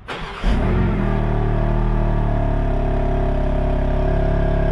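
A BMW M3 Touring engine and exhaust in normal mode, not sport, settling from a brief blip into a steady, loud, deep idle drone held close by.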